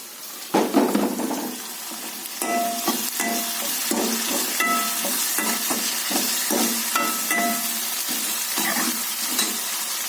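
Tomatoes and onions fry in a pan for a vegetarian curry, with a steady sizzle under repeated scraping and clinking strokes of a spoon stirring throughout, close and fairly loud, with no talk.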